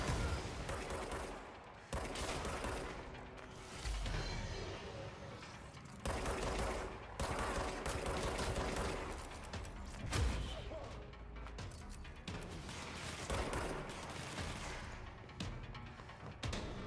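Sustained gunfire and rocket blasts from combat in the video game Control, dense bursts of automatic fire and heavy impacts continuing throughout, loud and close.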